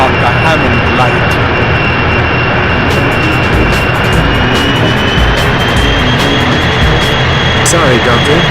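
Aircraft in the 007 Racing PS1 video game, a loud continuous jet engine roar with a steady droning tone, sharp clicks and bursts cutting through at irregular intervals.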